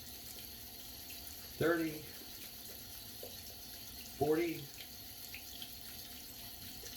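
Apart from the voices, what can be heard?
tap water running over a shaving brush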